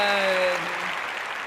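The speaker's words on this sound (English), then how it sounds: "stop clapping, you guys" An audience at a live improv comedy show claps steadily, a dense, fairly close wash of applause that holds through the moment, with a brief voice and tones fading under it at the start.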